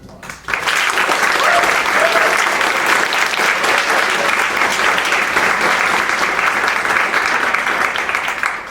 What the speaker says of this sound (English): So we have to give them another round of applause.